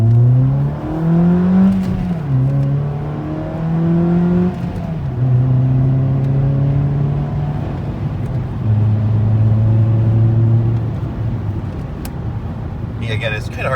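A 2008 Ford Focus with a five-speed manual pulls out into traffic, its engine droning and rising in pitch through successive gears with brief dips at each shift, steady and close throughout.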